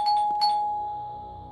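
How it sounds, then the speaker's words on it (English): A two-tone electronic doorbell chime in an indie horror video game rings twice in quick succession, then a long sustained tone fades out slowly with no voices. "I think that's the doorbell."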